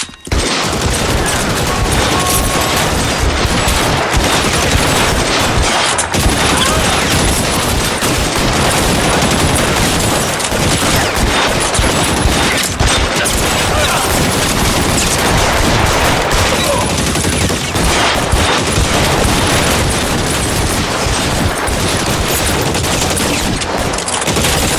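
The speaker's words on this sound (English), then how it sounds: "Bullets start flying." Heavy gunfire in the L.A. Noire video game shootout, loud sustained bursts of rapid shots and booms crowding the whole stretch with barely a pause.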